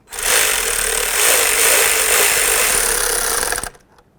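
Snugging up the ignition coil bolts on a 2005-14 Ford Mustang with a power tool gives a steady, loud, close whirring drone for about three and a half seconds, then stops abruptly.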